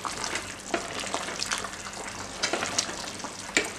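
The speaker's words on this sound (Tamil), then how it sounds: "இப்போ அதை நல்லா ஒரு கிளறி விட்டுட்டு" Rice stirred through a pot of boiling water for mutton dum biryani, giving a steady close bubbling hiss with scattered soft scraping strokes.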